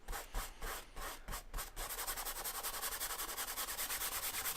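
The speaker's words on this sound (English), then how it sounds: "Spreading a layer of that over the top of the painting will just resaturate everything for us." Oil painting medium is brushed over the surface of a portrait painting with a steady, quiet, rhythmic rubbing and scrubbing, the strokes evenly paced and close up.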